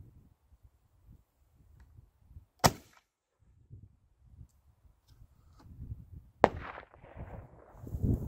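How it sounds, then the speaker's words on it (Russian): A sharp launch crack from an airsoft RPG-7 grenade launcher, then quiet, then a sharper distant airburst blast, with faint rustling and low outdoor noise between them. "Подрыв произошел в воздухе"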